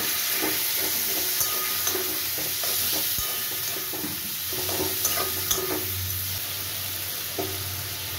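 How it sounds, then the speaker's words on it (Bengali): Ginger, cumin and chili paste frying in a pan for a potato and pointed gourd curry with coconut, a steady close sizzle and hiss broken by scattered pops and stirring clinks, no talk. "এবার আমি আদা জিরে লঙ্কা যে পেস্টটা বানিয়ে রেখেছিলাম সেটা দিয়ে দিলাম।"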